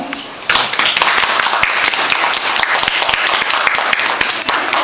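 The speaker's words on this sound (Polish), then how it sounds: "na początek duże brawa, bo dzieci się stresują" An audience at a primary school nativity play in Gdynia breaks into loud, dense applause after a brief quieter moment, with clapping filling the room up close and unbroken to the end.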